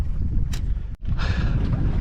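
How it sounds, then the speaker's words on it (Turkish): Waves slap against a rocking sailboat at sea between Kekova and Kaş, a rough rushing wash with heavy wind buffeting the microphone, loud and close with a brief dropout midway. "Rock and roll yapa yapa sallana yuvarlana dalgalar karşıdan vuruyor."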